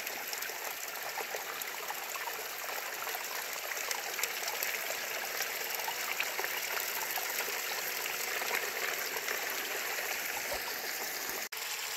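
Steady rushing creek water flows continuously through a sluice, a broad even wash pouring through the channel, close and unbroken.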